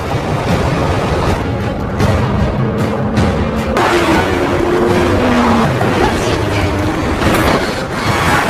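Cars roar in a chase, with engines revving loudly and a continuous rumble of motion, tire noise and whooshing passes throughout, busy and dense with no speech.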